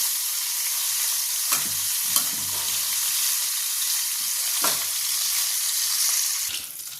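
Fish pieces, just flipped, sizzle steadily in oil in a pan, a continuous crackling hiss with a few brief utensil knocks and stirs, no talking.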